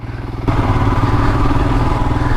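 A Royal Enfield Himalayan motorcycle rides along narrow winter country lanes, its single-cylinder engine thumping steadily and loudly at close range with rumbling wind and road noise.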